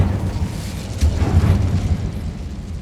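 A fiery Incendio spell blast cast in a Harry Potter video game inside a mine, heard as a single rumbling, whooshing burst of moderate loudness over low game ambience, with no talking.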